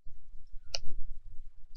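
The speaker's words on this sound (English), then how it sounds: "as I bash the keys again just to make sure." A couple of sharp, isolated keyboard key presses click close by against a quiet room background, about a second apart.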